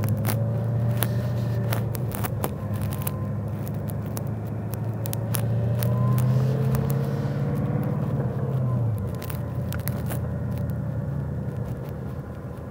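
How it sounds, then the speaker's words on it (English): A 2018 Shelby Super Snake's supercharged engine rumbles at moderate level, rising in pitch as it pulls through the gears and dropping at shifts, with scattered clicks and crackles over the low drone. "You can hear the supercharger quietly talking."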